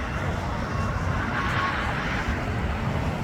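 A United Boeing 787 airliner arriving from Tokyo Haneda lands at LAX, heard as a steady, loud broadband roar of engine and airflow noise that holds evenly throughout.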